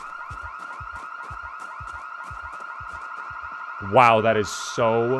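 A car alarm blares in the Project Zomboid video game, a steady cycling electronic whoop with rhythmic pulsing that continues throughout, before a voice cuts in loudly near the end.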